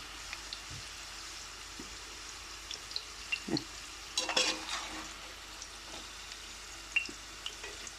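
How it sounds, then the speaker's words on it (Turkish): Quiet sizzling of mixed vegetables frying in a pan, with occasional soft clinks and scraping from stirring. "Karışık kızartma ya."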